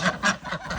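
Farm ducks give several loud, nasal honking quacks in quick succession, close by, with no talking.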